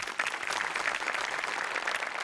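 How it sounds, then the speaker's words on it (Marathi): A studio audience at a Marathi comedy show applauds a skit with dense, steady clapping that stays at an even, moderately loud level throughout, with no speech over it. "मोठे आणि अमोल पाटलांसाठी एकदा टाळ्या वाजव्या."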